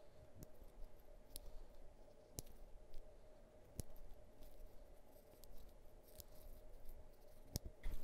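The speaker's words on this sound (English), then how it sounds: "you can use a pair of scissors to tidy up any loose fibers" Small scissors trim loose wool fibers from a needle-felted Mario mushroom keychain, making a few quiet, crisp snips and clicks over a faint background hiss, with no talking.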